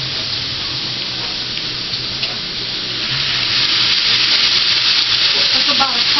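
Hot water is poured into a pan of sizzling chopped cabbage, and the steady frying hiss swells into a louder, bubbling steam partway through, close and continuous with no voices.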